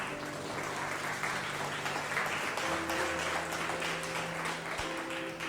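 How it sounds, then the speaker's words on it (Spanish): Congregation clapping for the Lord during a Spanish-language church service, a steady wash of applause throughout, with musical tones and organ-like chords sustained underneath. "Dele palmas al Señor."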